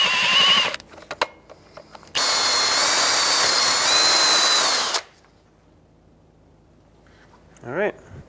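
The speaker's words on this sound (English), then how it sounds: "I'm going to grab an appropriate size drill bit so I can remove the rest of the sensor and gently drill." A power drill whines in a short burst, then runs steadily for about three seconds drilling out an old ABS sensor on a 2003-09 Toyota 4Runner before stopping; a brief voice follows after a quiet pause.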